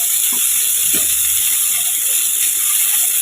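Potatoes fry in hot oil with cinnamon, bay leaf and cumin, giving a loud, even, unbroken hiss that stays close and constant throughout, with no one speaking.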